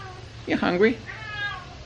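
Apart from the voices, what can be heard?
cat meowing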